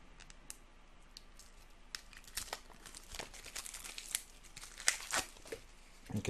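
Plastic wrapping crinkles and tears as a pack of Dead Man's Cabal cards is opened, with irregular close-up crackles and rips that grow louder and busier toward the end.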